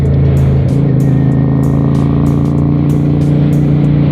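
Riding a 1992 Honda Shadow 400 cruiser, 29 years old, through heavy road traffic: a steady, loud engine drone with constant road and wind rumble, no voices.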